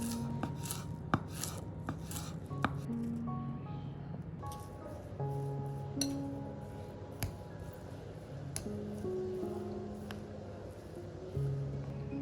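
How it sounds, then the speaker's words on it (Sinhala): Coriander leaves being chopped with a knife for potato tacos, a steady run of sharp, close knife taps on a board, some evenly spaced and some in quick bursts, with no talk over them. "ඊළඟට මේ විදිහට කොත්තමල්ලි කොළ ටිකකුත් කපලා එකතු කරගන්නවා."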